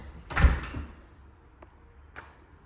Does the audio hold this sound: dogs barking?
no